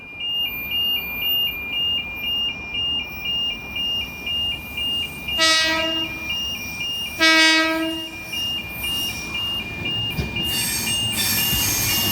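A Sydney S-set electric train approaching on a Carlingford service, set S146, with a steady rumble followed by two loud horn blasts that are sustained and tonal, then a rising roar as the train draws near.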